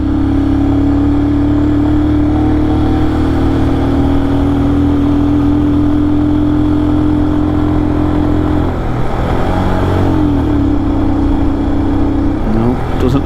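A Royal Enfield Scram 411 motorcycle labours uphill on a high Himalayan road, its engine drone loud and steady before dipping and rising again as the rider shifts gears.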